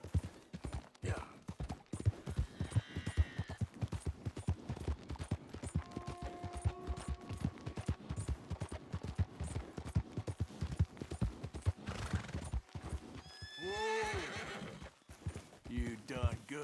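A horse in the Red Dead Redemption II video game clops along in a quick rhythmic gallop, then gives a loud whinny near the end, with a voice talking over it at times.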